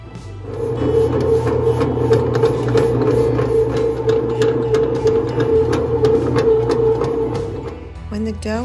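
A bread machine kneads dough for pletzel onion board, giving a steady motor hum with a regular rhythmic thumping and clatter throughout, fairly loud and close, winding down near the end.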